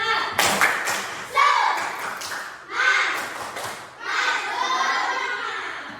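Schoolchildren in a classroom do a rhythmic spirit clap, chanting together in bursts punctuated by sharp, patterned claps and taps; several group phrases repeat with brief pauses between them.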